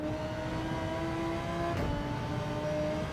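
Car engine from the Gran Turismo 7 racing game holds a steady, loud drone at high speed, its tone shifting slightly around the midpoint as if easing off before a corner, continuous throughout with no talk.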